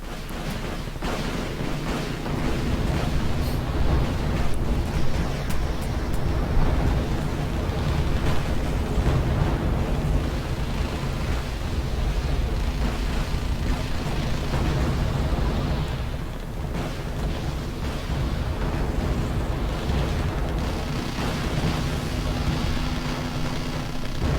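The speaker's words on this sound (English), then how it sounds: "It's like people just shooting at each other." Gunfire and explosions from a battle in the Wargame Red Dragon video game, heard as a dense, continuous roar of rumbling blasts and crackling fire that stays loud and unbroken throughout, with no speech.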